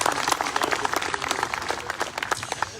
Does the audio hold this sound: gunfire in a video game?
no